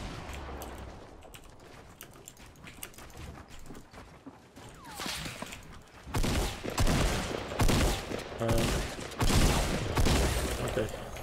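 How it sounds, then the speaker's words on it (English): Rapid, overlapping hand cannon gunfire bursts in Fortnite Battle Royale, dense and loud, with sharp shots cracking through continuous action noise. "I heard a hand cannon."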